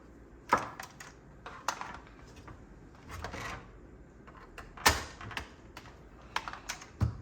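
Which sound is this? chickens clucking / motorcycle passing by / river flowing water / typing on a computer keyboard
typing on a computer keyboard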